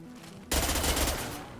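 Rapid burst of sniper rifle fire in Mass Effect 2, shots tumbling out like a machine gun: a loud, dense volley erupts after a quiet half-second and rings on, fading slowly.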